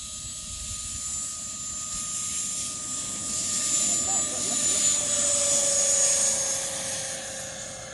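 Radio-controlled ducted-fan jets, a Freewing L-39 Albatross 80mm and an E-Flite F-16 70mm, whine steadily at takeoff. The high-pitched turbine-like tones swell gradually louder over a constant rushing background.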